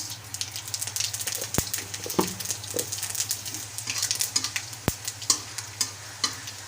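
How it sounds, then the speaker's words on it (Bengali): Four or five dried chilies sizzle in hot oil as a tempering for a pea dal with drumsticks, a steady crackle with quick popping bursts and two sharp clicks. "লঙ্কাটা তেলে দিয়ে দিলাম ফোড়ন দিচ্ছি ফোড়নে"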